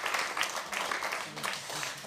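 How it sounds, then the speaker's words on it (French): Audience applause at a presentation of a poetry journal issue, moderately loud and continuous, with voices mixed in beneath the clapping. "Oui, applaudissons-les."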